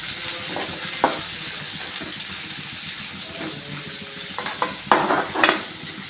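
Sliced onions sizzle in hot oil with curry leaves for a Kerala-style coconut chicken curry, a steady fry broken by a few sharp scrapes and clacks of stirring, louder near the end.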